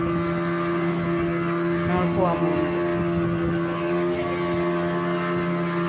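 A motorboat engine drones steadily and loudly on a short trip from Malpe beach to a small island carrying ten to fifteen passengers, someone talking over the constant hum.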